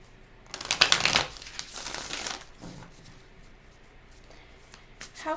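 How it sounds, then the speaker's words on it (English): Playing cards shuffled by hand, a burst of riffling and crisp papery flutter up close, followed by softer intermittent card handling and a brief final riffle, with no talking. "I'm just going to shuffle a little bit more to make sure those I shuffled enough."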